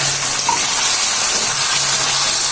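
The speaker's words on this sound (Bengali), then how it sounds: "এখন ভালো করে নাড়াচাড়া দিবে।" Shrimp dal with dried fish simmering and being stirred in a pot, giving a continuous close sizzling, bubbling hiss that holds steady throughout with no talk.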